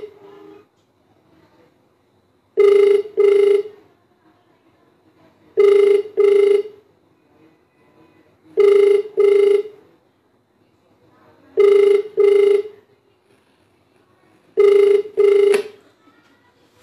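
An outgoing phone call produces a ringback tone in five evenly spaced double-ring bursts about three seconds apart, clear and close with near silence between them.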